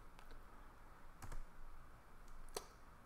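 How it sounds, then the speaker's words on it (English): Scattered keystrokes on a computer keyboard as the gcloud init command is entered, a few sharp clicks separated by gaps over low room hiss. "to do that, we're going to type gcloud init"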